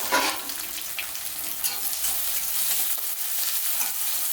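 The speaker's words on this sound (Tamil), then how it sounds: "நம்ம அரிஞ்சு வச்சுருக்க தக்காளியும் கருவேப்பிலையும் நம்ம சேர்த்துக்கிறோம்" Onions frying in a pan with chopped tomatoes and curry leaves for a chicken gravy give a steady, close sizzle with stirring scrapes, loud and unbroken, no voices.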